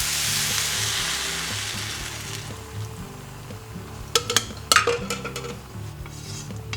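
Tempeh and peanut sauce frying in a wok, a steady loud sizzle that fades slightly over time, with a few sharp clinks of a utensil against the pan near the end.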